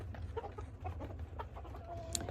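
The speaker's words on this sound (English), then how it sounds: "Look at all them pretty chickens." Chickens and roosters, mostly brown with one white hen, cluck steadily in a farm flock during morning feeding, with short overlapping calls close by and a higher call near the end.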